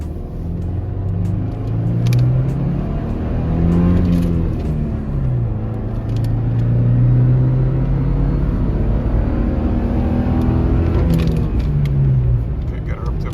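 A 2024 Toyota Tacoma SR pickup truck engine with manual transmission hums steadily and rises in pitch as it accelerates, a low continuous drone with a voice talking over it throughout.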